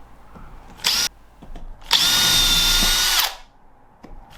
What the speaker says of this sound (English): I pre-drilled the holes